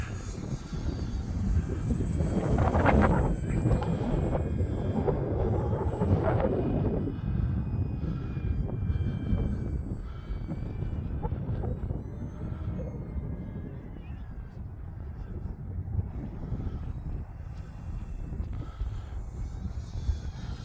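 A radio-controlled E-flite Extra 300 model airplane engine drones steadily overhead in cold weather, rising and falling slightly in pitch as it passes, with faint talk now and then beneath the buzz.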